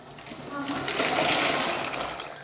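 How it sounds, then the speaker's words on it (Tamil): Pasta is tipped into a pot of boiling water, giving a short watery rush and bubbling splash that swells and fades over a couple of seconds. "அதுக்குள்ளே பாஸ்தாவை கொட்டணும்"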